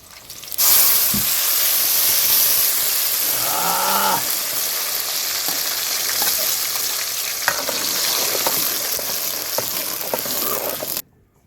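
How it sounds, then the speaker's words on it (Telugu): A blended onion and tomato paste fries in a pan for chicken sherva, a loud steady sizzle and hiss with spoon-stirring scrapes throughout, cutting off abruptly at the end. "ఇప్పుడు మిక్సీ పట్టుకున్న ఉల్లిగడ్డలు టమాటా పండ్లని వేసుకున్నామండి"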